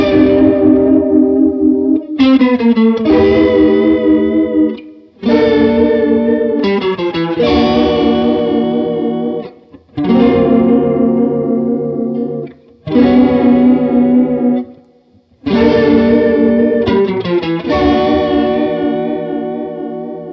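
An electric guitar runs through a Boss Waza Craft CE-2w chorus pedal set to maximum, ringing out loud sustained chords with a heavy swirling, warbling shimmer, separated by short gaps.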